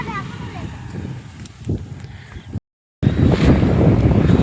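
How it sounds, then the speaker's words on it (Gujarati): Steady wind buffeting the microphone, broken by a brief dropout, with a voice speaking faintly underneath. "ઠંડો ઠંડો પવન આવે છે ને બહુ મજા આવે છે"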